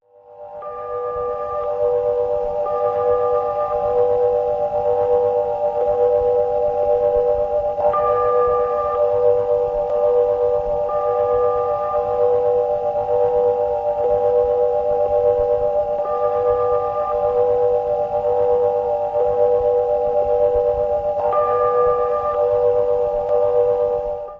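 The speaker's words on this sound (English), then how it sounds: "The Earth is singing too." Earth's natural radio emissions rendered as sound: a steady, eerie chorus of sustained tones, layered and humming with faint whistling overtones that swell at a few points, continuous and alone for the whole stretch.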